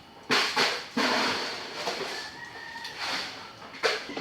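Chickens being unloaded for delivery cluck and squawk in short bursts, with a rooster crowing at moments, fairly close, amid a soft outdoor background.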